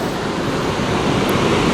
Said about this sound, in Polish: O tutaj jest wodospad.